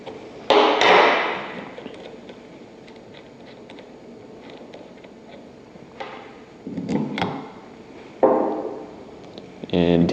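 Metal clicks and clunks from unscrewing the top bolt on a stainless steel normally closed solenoid valve to remove its coil, a few sharp close taps spaced apart over a quiet background.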